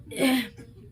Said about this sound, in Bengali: আমার ছোটো ছেলেটা কাশছে